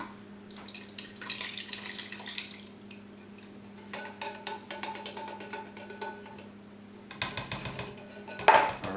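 Diced tomatoes pour and splash wetly into a chili mixture in a pot, a steady liquid rush with soft plops and a few clinks near the end, close and fairly quiet.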